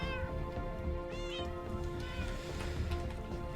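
A Minecraft cat gives several short, fairly faint meows over a thick, steady wash of game ambience, the cries coming at irregular moments and partly buried in the background.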